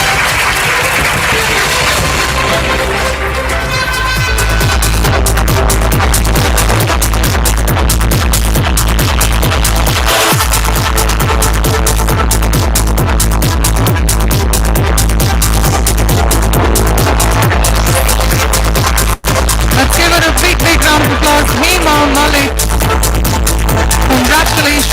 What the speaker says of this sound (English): Please join me in giving a big round of applause to Hema Malik